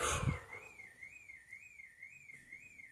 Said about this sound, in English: a car alarm is just going off